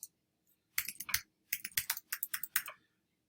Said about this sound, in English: if I type in here an account